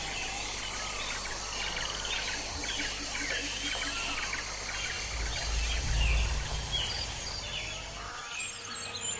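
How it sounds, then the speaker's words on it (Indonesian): Birds chirp and sing on a bright morning, their faint calls mixed with insect-like trilling over a steady low hum that persists throughout. "Suara burung menjadi iringan yang sangat harmonis, seperti nyanyian angin di jalur Katulistiwa."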